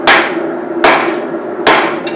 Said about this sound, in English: So I don't hammer the cheeks down